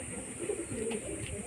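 Several short throaty coos from a male Madras pigeon of an old household line, near and fairly quiet over constant hiss, with no speech.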